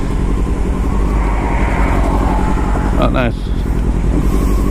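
A Harley motorcycle rumbles past loudly on the road amid heavy traffic and wind noise, its engine roar steady and close, while a rider speaks briefly over it.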